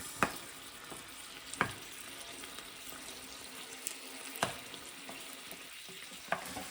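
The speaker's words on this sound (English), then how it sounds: "we're just going to let that cook away for a couple of minutes" HelloFresh meal cooking in a pan, with a quiet, steady sizzle broken by a few sharp clinks and scrapes of stirring.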